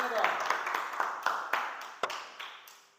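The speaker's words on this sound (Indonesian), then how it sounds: "Tepuk tangannya dong." A small group of classmates applauding in a classroom, a few seconds of scattered, uneven clapping with sharp individual claps that thin out toward the end.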